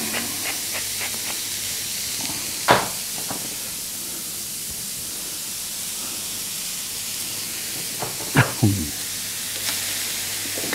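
A fish cooking in salted butter in a pan gives a constant low hiss and sizzle with a few sharp clicks and clatters scattered through it, close up and with no voices.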